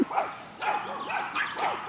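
Several dogs bark excitedly in rapid overlapping yips and woofs, fairly close and continuous for a couple of seconds.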